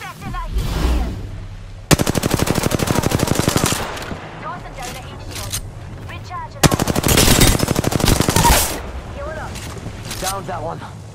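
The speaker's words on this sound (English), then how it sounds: "Taking fire." Gunfire in a battle royale video game: two long, loud bursts of rapid automatic fire, each lasting about two seconds, separated by quieter stretches of game sound effects and a voice.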